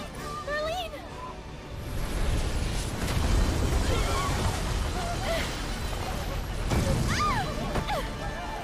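A rumbling explosion in Final Fantasy VII Remake swells into a sustained low roar, with chirping game effects and a few voices over it.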